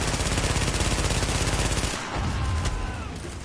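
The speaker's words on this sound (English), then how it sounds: "they're all shooting from the top" Rapid automatic gunfire from players in a shooter game, a steady, loud rattling stream of shots that breaks off about two-thirds of the way through, followed by a few scattered pops.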